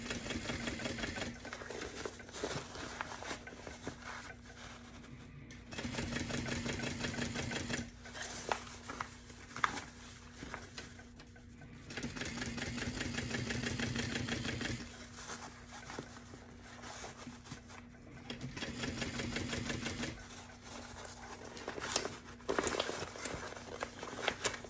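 A sewing machine stitches a tote bag in several steady bursts of rapid mechanical whirring. The runs are separated by short quieter pauses, with the motor holding a constant hum throughout.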